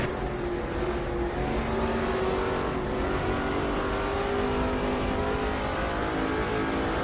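Race car engines in the NASCAR 2005 video game at the '06 Sylvania 300, a loud continuous roar with shifting engine pitches as several cars run together, steady throughout.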